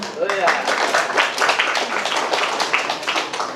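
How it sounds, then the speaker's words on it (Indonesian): Audience clapping at a stand-up comedy roast show in Indonesia, a moderate, continuous patter of applause with a speaker talking over it. "KNPI boleh minta tepuk tangannya?"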